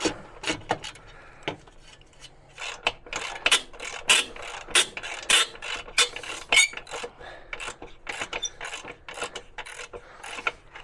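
Crossmember screws being undone under a Mercedes C220 W203 engine with a ratchet, giving repeated close clicking and rasping bursts in an irregular rhythm with short pauses between them.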